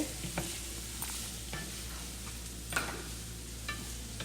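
Carrots fry in tempering oil with a quiet, even sizzle, punctuated by a few light spatula taps and stirs and no talking.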